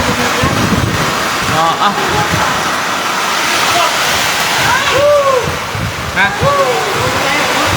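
Heavy rain and strong wind roar in a loud continuous wash, with people talking and exclaiming over the storm.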